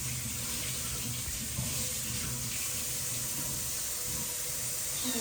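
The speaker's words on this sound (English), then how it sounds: "I'm just gonna open the tap. Rinse my hands." A tap runs steadily into a sink while hands are rinsed, giving a continuous hissing, splashing flow throughout with no pauses or talk.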